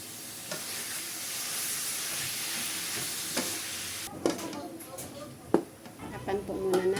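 Ground meat hitting a hot pan while cooking spaghetti sauce, giving a steady frying sizzle and hiss with scattered sharper crackles and pan clatter, close and moderately loud.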